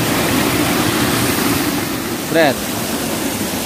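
Steady broadband rush of water pouring from a clear, fresh spring, running continuously and fairly loud, with a brief voice cutting in near the end.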